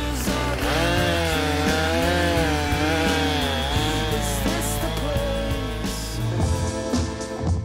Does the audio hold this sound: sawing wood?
yes